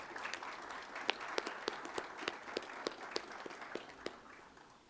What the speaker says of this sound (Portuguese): A quem peço uma salva de palmas